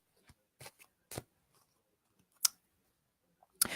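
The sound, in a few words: shuffling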